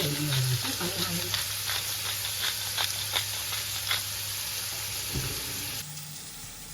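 Beef fillet and lamb fry in butter in a pan, a continuous close sizzle with bursts of spitting crackle that drops to a quieter hiss toward the end.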